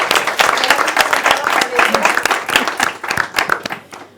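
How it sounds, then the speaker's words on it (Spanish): Audience at a sustainability round-table discussion breaks into applause, dense sharp clapping from many hands, fairly close and loud, tapering off at the end. "un aplauso para Claudia."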